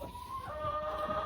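Chickens cluck softly nearby, a short low burst of fowl calls over faint background noise, with no talking.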